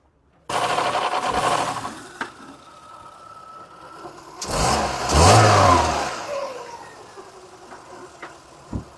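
A 1.8-litre car engine starts and is revved twice, the second rev rising louder and longer before settling back to idle, close by.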